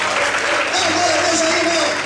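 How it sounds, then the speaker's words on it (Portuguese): A church congregation applauds in a steady, dense wash of clapping that fills the room, with a voice speaking over it. "Todos podem aplaudir e glorificar a Deus."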